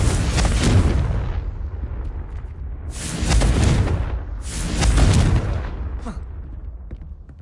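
Loud booming blasts of a Confringo blasting curse in a wizard video game, three heavy explosions rolling out at steady intervals with long rumbling decays between them.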